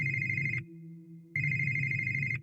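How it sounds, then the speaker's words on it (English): An old cell phone rings in the Vampire: The Masquerade – Coteries of New York game, two bright electronic trilling bursts separated by a short pause, close and clear with no voices. "waking up to the tune of an old cell phone ringing"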